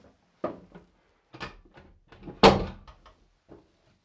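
A door is swung shut inside a historic funeral home at night, giving a sharp wooden thud amid several quieter knocks and handling bumps in an otherwise quiet room.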